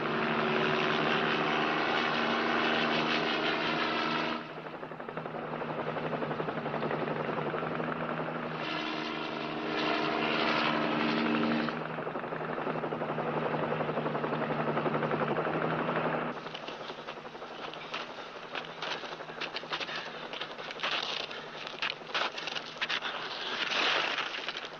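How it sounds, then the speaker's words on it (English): Helicopter flying over mountain terrain during a ranger search, a steady loud rotor and engine drone that persists throughout with shifting intensity, no voices. "Helicopter to ranger station."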